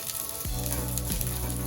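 Garlic sizzles in hot oil in a pan, a close, continuous crackling fry with a couple of soft stirring scrapes and no talking.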